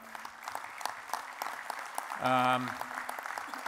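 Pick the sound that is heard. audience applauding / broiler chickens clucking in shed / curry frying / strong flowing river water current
audience applauding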